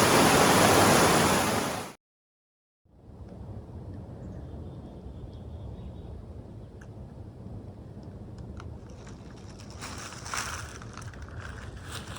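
Rushing stream water in high flow crossing a hiking trail on the Appalachian Trail near Brassie Brook: a loud, close roar for two seconds, a brief cutoff, then a steady broadband rush continuing at moderate level.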